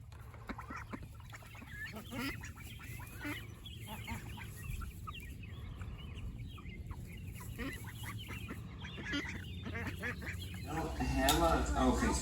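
Chickens cluck and squawk in agitated bursts as they are caught in the dark, mixed with geese-like honking calls and people talking nearby, growing louder near the end.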